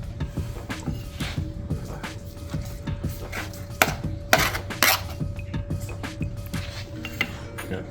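Homemade breakfast pizza with cheese, peppers and meat being sliced, a knife or cutter knocking and scraping against a plate or board in irregular close taps and clinks, a few sharper strikes near the middle.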